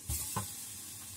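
Finely chopped kaffir lime leaves hit a hot pan for a vegetarian shrimp-style topping, giving a soft close sizzle with a quick stir at the start and then a steady, faint frying hiss.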